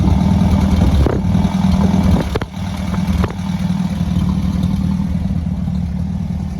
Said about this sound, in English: Let's move back to the back and we'll hear the exhaust note. There's a single exhaust on this 50 Prefect.